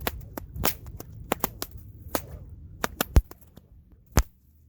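A whip cracks in a rapid volley, a dense run of sharp snaps with a few louder reports mixed among softer ones, close and loud, tailing off into silence at the end.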